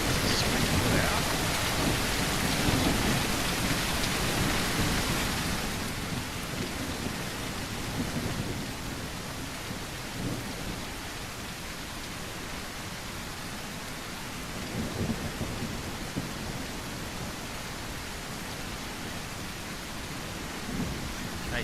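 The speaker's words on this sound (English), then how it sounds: "The rain can be a bit oppressive in this game" Rain and a thunderstorm in a video game: a steady, dense hiss of rainfall with low rolling thunder, loudest over the first few seconds and then settling into a constant wash with occasional soft rumbles.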